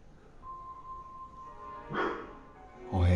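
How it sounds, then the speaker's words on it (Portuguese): Street dogs bark outside: two sharp barks a second apart, fairly near, after a quiet stretch with a faint steady tone. "Todos os cachorros da rua começaram a latir aqui agora."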